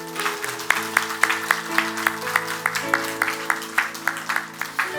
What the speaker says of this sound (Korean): 하나님께 한번 우리 감사의 박수 한번 할까요?